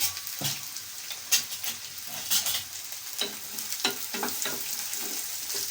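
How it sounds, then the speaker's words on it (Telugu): Onion pieces fry in hot oil for a Godavari-style fish curry, a steady close sizzle broken by the repeated scrape and clack of a stirring spoon against the pan. "నూనె వేడెక్కినాక నూనె కాగిందండి. ఉల్లిపాయ ముక్కలు వేస్తున్నాను."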